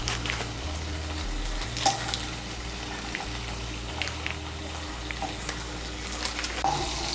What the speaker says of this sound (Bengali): কড়াইতে যে তেল আছে এই তেলের মধ্যে আমি দিয়ে দিচ্ছি 2 বড় চামচ বাটার।